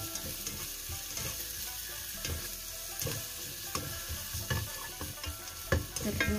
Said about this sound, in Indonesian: bawang putih sama jahe. Kita aduk dulu sampai menguning ya ya teman.